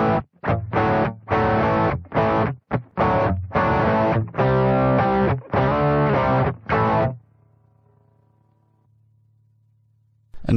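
Electric guitar run through a Boss OD-1 overdrive model on a Boss GT-1000 plays a string of loud, distorted chords and notes, then lets the last chord ring and fade for a few seconds.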